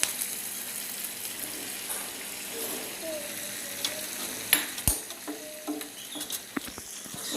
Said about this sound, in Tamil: டீப் ஃப்ரைக்காக இதை ரெடி பண்ணி பரட்டி வச்சுருக்கோம்.